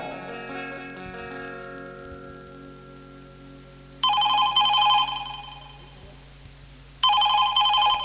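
Telephone ringing on an outgoing call, two loud bursts of bright trilling ring about three seconds apart, following a steady low ringback tone, heard close and clear.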